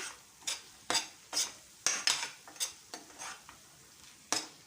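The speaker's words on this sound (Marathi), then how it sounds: "छान मिक्स करून घ्यायचं" Chili powder is stirred into a chickpea curry in a pan, with about nine quick, loud scraping strokes at an uneven rhythm and a faint sizzle between them. The strokes are close and there is no talking.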